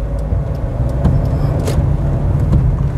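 A car engine accelerates during a road driving lesson in heavy rain, giving a steady, close, low rumble heard from inside the cabin with no talk.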